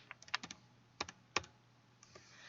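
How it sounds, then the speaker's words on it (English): Code being typed on a computer keyboard: quiet, close, irregular clicks in short bursts with gaps, with no talk. "I'm going to fast forward typing the code"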